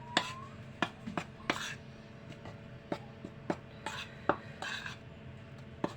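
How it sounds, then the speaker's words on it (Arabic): A spoon stirring orange cake ingredients in a bowl, giving scattered light clinks and scrapes against the sides with quiet gaps between them, nearby and fairly soft. "وابتدي اقلب كل المكونات دي مع بعضيها"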